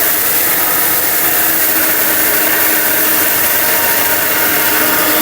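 A steel-bush blender machine runs loudly and steadily, its dense motor whir filling the whole stretch without a break and with no voices over it.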